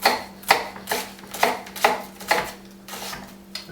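A knife dices onion on a cutting board for homemade veal stock, with about eight steady, crisp chops at an even pace, close and clear with no talk.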